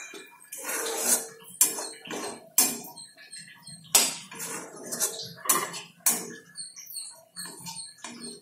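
Mushroom bhuji with roasted cumin powder is mixed in a pan, with a metal spoon clanking and scraping against the pan in uneven strokes, close and fairly loud, with no voices.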